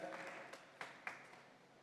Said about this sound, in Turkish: Bir kişi alkışladı.